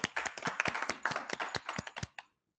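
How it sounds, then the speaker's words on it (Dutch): A small audience claps at an award show as a prize winner is announced, a brisk burst of scattered close hand claps lasting about two seconds before stopping abruptly. "Applaus voor u."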